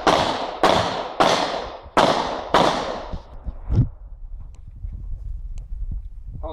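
Five sharp, loud gunshots ring out in quick succession, each with a short echoing tail, followed by faint scattered noises.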